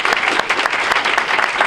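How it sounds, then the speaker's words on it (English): A loud, dense round of applause from an audience, steady clapping from many people filling the whole brief moment with no voices over it. "And they deserve a round of applause for that."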